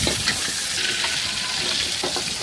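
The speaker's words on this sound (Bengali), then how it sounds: "এদিকে পটলগুলো উল্টিয়ে পাল্টিয়ে এখন লাল লাল করে ভেজে নেব।" Pointed gourd (potol) slices frying in a pan, a steady broadband sizzle with occasional soft stirring scrapes, close and continuous with no voices.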